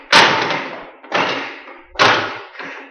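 A door is worked open with three heavy thuds about a second apart. Each is a sharp, loud impact with a short decaying rattle, and no voices are heard.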